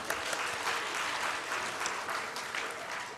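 A church congregation claps during a youth-led worship service. The applause is dense and steady, with faint voices mixed in.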